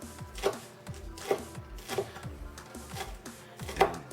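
Green onion greens chopped with a knife on a cutting board for chives, a crisp rhythmic series of about five or six close knocks spaced roughly half a second apart, with no talking.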